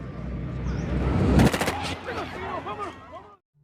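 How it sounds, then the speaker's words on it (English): Police gunfire kills a man in a film scene: a rapid burst of sharp shots rings out over a rumbling background, and afterward a tense musical tone trails off. "the police shot him dead"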